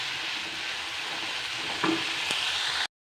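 Home-grown vegetables sizzle in a hot pan while being stirred, a steady close frying hiss with a couple of brief scraping clinks, alone and cutting off abruptly.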